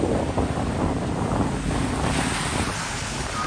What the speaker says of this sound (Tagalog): lakas pa rin ng alon, ng alon dito sa Aroroy.